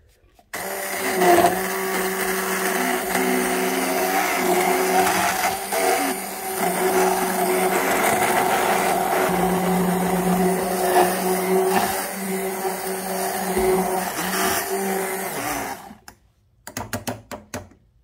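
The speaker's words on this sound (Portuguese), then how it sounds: "E agora eu vou ligar o meu mixer." A hand mixer whirs loudly and steadily for about fifteen seconds blending a drink, then cuts off, followed by a few light clicks and knocks.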